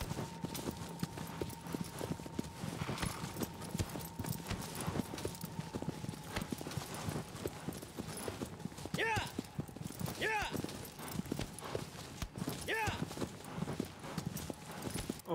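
Horse hooves clip-clop in a steady rhythmic trot in Shadow of the Colossus, moderately close, with a faint sustained tone and occasional whinny-like calls over the footfalls; someone speaks at times.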